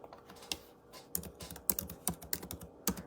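Someone typing on a computer keyboard, a quiet close-up series of irregular key clicks and taps in short bursts, with no voices.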